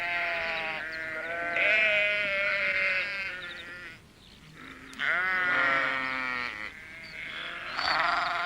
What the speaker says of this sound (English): he saw the sheep in the garden